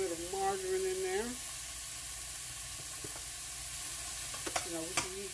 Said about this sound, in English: So we're just going to let these go ahead and saute.